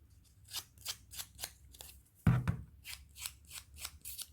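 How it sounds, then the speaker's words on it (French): Small scissors snipping scraps of luxury paper, a steady series of about a dozen crisp close cuts in a regular rhythm, with one louder thud partway through and no talking. "Vous pouvez prendre des ciseaux plus petits"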